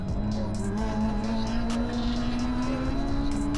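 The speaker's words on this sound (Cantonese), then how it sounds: "呢部 FD2 湧住上嚟好快啊！" A Honda Civic Type R FD2 race car accelerates on a circuit during a track day. The engine note climbs steadily and stays loud and close throughout, and there is no speech.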